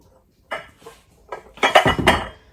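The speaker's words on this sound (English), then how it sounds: "I'm gonna get my bowl out here." A bowl is pulled out in a home kitchen: a few sharp clinks and clattering knocks of dishes and utensils, close by, in short bursts separated by brief quiet.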